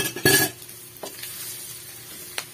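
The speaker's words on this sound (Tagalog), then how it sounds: "Ihulog na natin ang bawang." Garlic and onion hit a hot frying pan with a sharp burst of sizzling, followed by steady frying and a few scraping stirs and clinks of a ladle against the pan.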